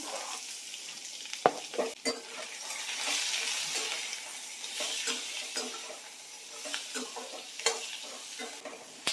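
Dried red chilies and chopped onions sauté in a hot pan, giving a steady close sizzle broken by sharp scraping and clinking stir strokes throughout, with no talking.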